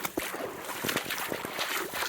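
Heavy rain pours down in a forest during a hike, a dense, steady hiss with scattered sharper drops striking close to the microphone.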